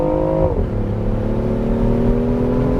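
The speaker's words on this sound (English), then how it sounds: "Getting on the highway here in Florida, it is quick and we're going fast." A BMW i8 Roadster accelerates hard onto a Florida highway, its engine note rising then dropping with a gear change before climbing steadily again, loud and close from inside the car.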